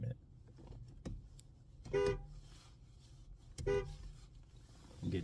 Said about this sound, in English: I was just honking to get this car